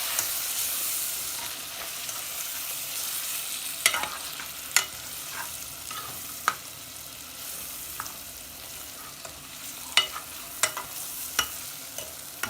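Chili and coriander powder fry for chicken biryani in a pan, a soft steady sizzle with repeated sharp scrapes and taps of a stirring spoon, close and heard alone.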